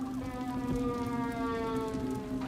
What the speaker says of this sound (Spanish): El llanto de las ambulancias recorrió lo que quedó de las calles.